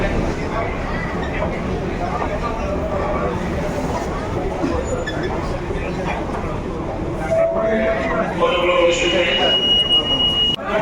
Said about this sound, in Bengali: মেট্রো এসে দাঁড়ালো